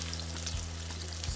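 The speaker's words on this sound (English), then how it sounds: "We're ready to fry our eggplant." Eggplant for tortang talong fries in a modest amount of oil, a brief, even hiss of sizzling over a low background hum.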